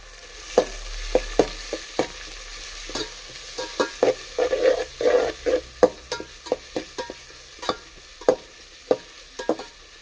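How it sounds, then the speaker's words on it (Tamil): Sliced onions sautéing in a pot for chicken biryani, a steady sizzle broken by repeated scraping knocks of a spoon stirring them, with no talking. "வெங்காயம் வதங்கிட்டு இப்படி வதங்கணும்"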